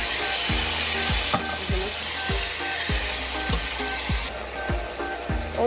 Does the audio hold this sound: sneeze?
no